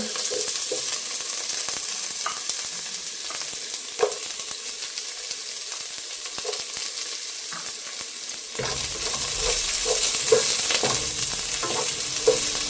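Sliced onion sizzles and spits in hot ghee with whole spices, a steady bright frying hiss that grows louder and fuller partway through, with occasional soft stirring scrapes and clicks of a spoon against the pan.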